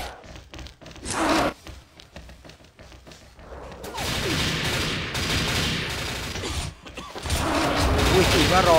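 Video game battle with bursts of gunfire and grenade explosions, bangs and rattling volleys that turn into a dense, continuous barrage, loud and close, with a voice speaking intermittently.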